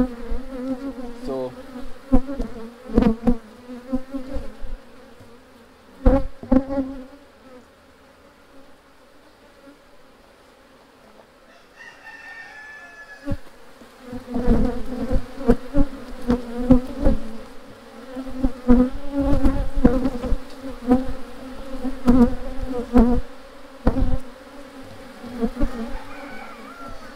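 Honeybees buzzing close by during a hive inspection, with loud passing drones that swell and fade across the whole stretch, mixed with occasional handling knocks and scrapes.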